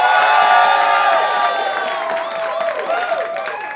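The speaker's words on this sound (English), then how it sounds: "Make some noise if you thought it was Carmina." Comedy club audience at a pun competition in New York City cheering, whooping and clapping, loud at first and tapering slightly as shouts continue.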